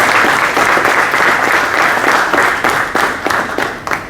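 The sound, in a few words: audience applause welcoming panelist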